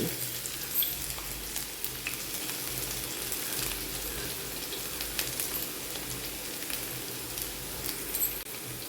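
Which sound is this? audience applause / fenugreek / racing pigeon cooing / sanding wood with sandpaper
fenugreek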